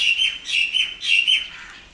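Small birds chirp in quick high bursts beside a road near Maili Dam in Punjab, three short clusters of bright tweets close by, with no other sound beneath.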